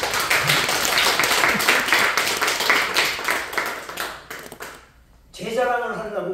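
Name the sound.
audience applause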